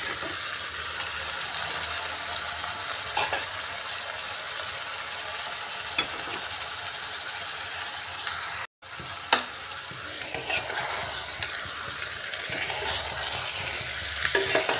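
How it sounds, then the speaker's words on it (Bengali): Fried chicken with potatoes and onion is stirred in a pan, sizzling and crackling steadily and loudly up close throughout, with scraping stirs and a brief dropout partway through. "এভাবে ভালো করে নাড়িয়ে নিচ্ছি আলু পেঁয়াজ আর চিকেনটাকে।"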